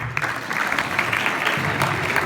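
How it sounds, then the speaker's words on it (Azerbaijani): An audience at a school award ceremony claps for School No. 42, a dense, even burst of applause from a crowd indoors, lasting about two seconds. "42 nömrəli məktəbi xahiş edirəm alqışlayaq"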